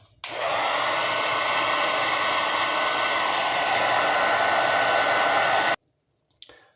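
A hair dryer blows hot air onto mustache rollers to set a waxed curl, a loud steady whoosh running for about five and a half seconds before cutting off abruptly.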